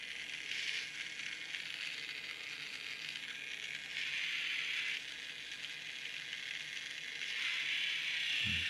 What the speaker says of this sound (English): So it looks like it's just the main gear is slipping